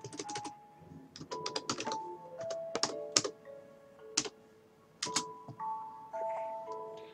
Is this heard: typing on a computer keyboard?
yes